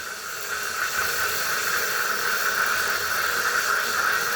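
Steady hiss from the evaporator of a Whirlpool refrigerator freezer during defrost, a continuous even broadband rush that holds at the same level throughout with no break and no voices.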